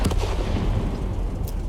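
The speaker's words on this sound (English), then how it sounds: "That nice 6-shot autoloader, firing APCR ammunition." A T71 DA tank's six-shot autoloader cannon firing APCR rounds in World of Tanks, a loud, heavy boom with a dense rumbling tail that fills the moment.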